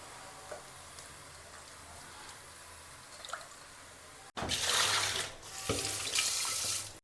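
Mushrooms tipped into a hot pan for a mushroom and peas curry, after quiet handling noises, a sudden loud sizzle erupts and keeps hissing steadily, close up with no talk.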